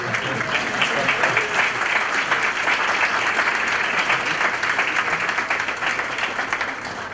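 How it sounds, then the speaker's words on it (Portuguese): A studio audience applauds to welcome a guest onto the stage, dense continuous clapping that stays loud and even throughout with no talk. "vamos receber aqui com palmas o nosso amigo"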